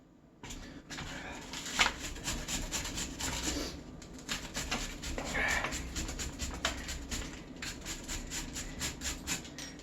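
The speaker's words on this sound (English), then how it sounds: "now I'm going to grate the potatoes with my handy grater like Grandma used to use" Potatoes for latkes are grated by hand on a grater, with rapid repeated rasping strokes in close, uneven bursts and a brief pause near the start.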